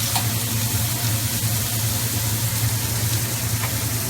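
Red snapper and mushrooms with salt and pepper simmer in a pan, giving a steady, loud, close sizzle with a low hum beneath and no talking.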